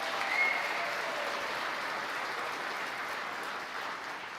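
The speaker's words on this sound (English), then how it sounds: "Let's give him a round of applause." Sustained audience applause at a vice-presidential speaking event in Islamabad, Pakistan: steady, dense clapping from a large crowd, loud and continuous throughout without speech over it.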